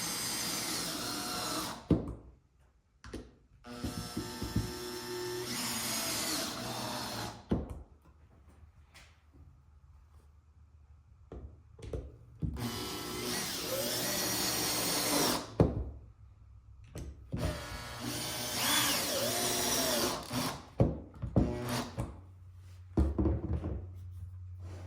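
A power drill drives screws into a cedar Adirondack side table kit in repeated whirring bursts, close and loud, broken up by knocks and handling of the wooden parts.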